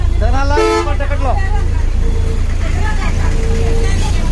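A bus bound for Tenali sounds its horn in a short series of loud toots over a low engine rumble, with chatter and voices around it.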